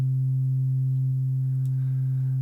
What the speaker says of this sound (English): when you remove all the harmonics, it becomes a sine wave